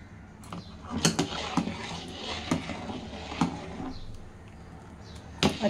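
A spoon stirs musk melon sharbat in a metal vessel, giving light clinks and taps against the sides at an irregular pace, close and moderately loud.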